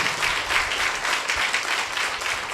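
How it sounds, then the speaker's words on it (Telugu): A crowd at a Christian sermon claps loudly, giving a dense, continuous burst of applause that fills the short moment. "గట్టిగా చప్పట్లు కొట్టండి"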